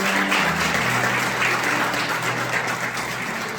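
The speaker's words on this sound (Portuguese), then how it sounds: "Dá uma salva de palmas para Deus." Church congregation giving a round of applause for God during a service, a continuous full-room burst of clapping that stays strong and fades only slightly at the end.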